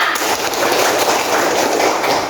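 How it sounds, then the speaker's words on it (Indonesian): A class of students applauds together, a loud dense wash of clapping sustained evenly throughout. "Oke, tepuk tangan untuk kita semua."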